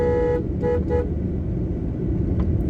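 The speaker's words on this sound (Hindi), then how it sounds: "पीछे व्हीकल आ रहा है" A car on the road coming up from behind a learner driver, with several short horn toots near the start and a steady engine and road rumble beneath, no talk.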